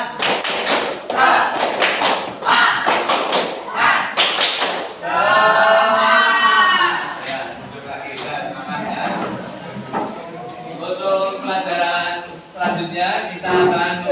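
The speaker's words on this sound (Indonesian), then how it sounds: "tepuk semangat" A classroom of students performs a rhythmic spirit clap before a lesson, sharp patterned bursts of clapping and taps in quick groups, alternating with a teacher's voice and children chanting along between the clap sequences.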